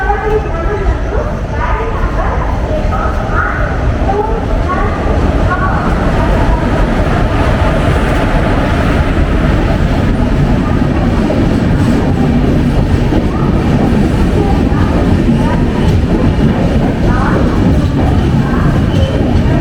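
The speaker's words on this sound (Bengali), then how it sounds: "18046 east coast express, Hyderabad two Howrah" The 18046 East Coast Express from Hyderabad to Howrah pulling into a station, a continuous loud rumble and rattle of carriages with clattering wheels, people talking nearby under the noise.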